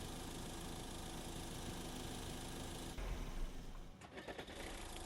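A truck's engine in Road Maintenance Simulator idles with a steady low rumble, swells briefly as it catches, then settles back to an even drone, moderately loud with no voices.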